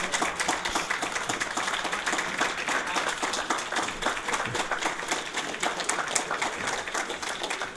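Audience applause after a museum presentation on Jamaican Americans preserving Maryland's African American history, a sustained even wash of many hands clapping throughout, moderately loud and without speech.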